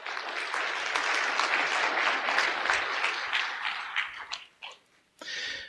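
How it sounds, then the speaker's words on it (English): A round of applause from a church congregation, a dense burst of clapping that holds steady, then breaks into scattered final claps, a short pause and a brief resurgence at the end. "Can we give them all a round of applause?"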